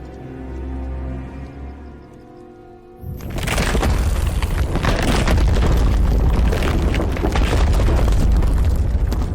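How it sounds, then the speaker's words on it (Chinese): Fireworks burst in a night scene of a wuxia costume drama, a loud dense barrage of booms and crackles erupting after a quieter low musical passage and sustaining to the end. "烟花盛放"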